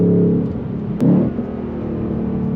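A supercharged 2024 Ford Mustang Dark Horse with a Whipple blower and a Gen 6 V8, its engine humming steadily up close, then a quick blip as it is rev matched before settling back to a smooth drone.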